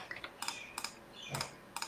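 Quiet computer mouse clicks land in small clusters of two or three sharp ticks, spaced irregularly across a couple of seconds with no one talking, while selecting slides in Google Slides.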